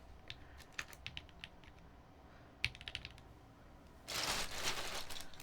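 Typing on a computer keyboard in short, quiet bursts of clicky keystrokes separated by pauses, then a louder, denser stretch of rustling clatter near the end.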